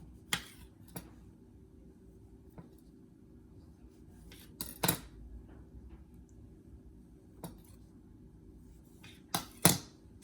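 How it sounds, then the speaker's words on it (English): A knife slices tomatoes on a cutting board, giving a handful of sharp, irregularly spaced taps against a quiet, still kitchen background. "Tomatoes. I'll do about 4. You slicing them up? Slicing them up."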